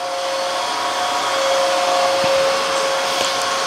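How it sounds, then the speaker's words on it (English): A Bissell CrossWave HF3 hard floor cleaner runs steadily and loudly throughout, with a constant motor whine and airflow hiss, used with hard floor sanitize solution on a greasy, dirty high-traffic floor. "FYI, we're using Bissell hard floor sanitize solution in this machine."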